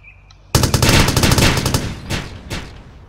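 Bursts of automatic gunfire from the helicopter combat video game Blackhawk Rescue, a loud rapid volley of shots erupting after a short quiet opening, then trailing off into two more isolated blasts.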